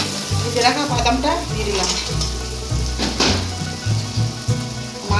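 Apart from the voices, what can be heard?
fish head and greens being sautéed in a pan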